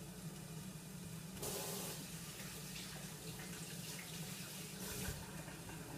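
Tap water runs steadily into a sink while food is washed during home cooking, a continuous hiss with a brief surge partway through and faint handling noises.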